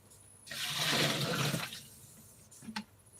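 Boiled water pours from a kettle into a pot of vegan stock, a steady rushing splash lasting about a second, then a couple of small clinks and drips.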